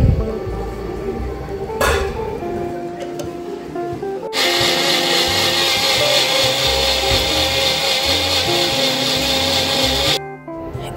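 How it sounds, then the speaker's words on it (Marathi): A kitchen mixer grinder blends mint chutney with black salt, its motor whirring in short bursts before settling into a loud, steady high-pitched grinding run that stops abruptly near the end. "तर याला आपण नीट मिक्सर मध्ये बारीक करून घेणार आहे।"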